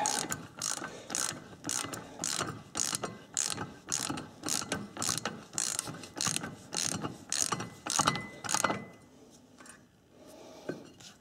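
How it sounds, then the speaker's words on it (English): A ratchet wrench with a 15/16 socket tightening down against a piece of wood, giving a steady run of quick, close clicking strokes that stops near the end, with no talking. "Got my piece of wood, my 15/16 socket. Just gonna tighten her down."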